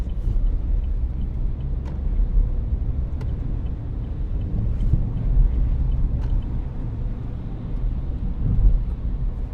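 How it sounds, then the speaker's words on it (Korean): Engine of a 2015 Chevrolet Spark with manual transmission idling just after starting, on a snowy road: a steady low rumble holding at an even level throughout, close by, with no talk. "그냥 수동 운전할 겸 그냥 시동을 걸었습니다"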